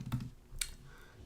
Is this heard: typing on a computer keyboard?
yes